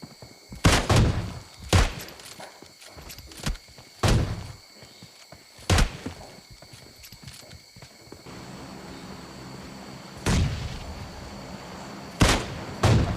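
AWM sniper rifle shots in PUBG Mobile Lite: several loud, sharp single reports spaced a second or more apart, each with a short booming tail, over quiet in-game background noise.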